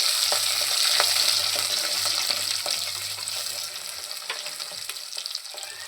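Chopped shallots hit hot oil with fenugreek and fennel seeds for a Kerala-style fish curry, giving a loud, continuous sizzle and crackle with a few sharp spits and pops.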